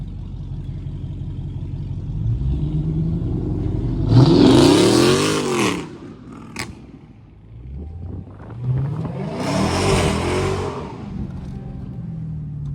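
Supercharged Dodge SRT Hellcat engines rev hard in traffic, two loud, roaring bursts a few seconds apart, each climbing and falling in pitch, with a lower engine rumble between them and no talking.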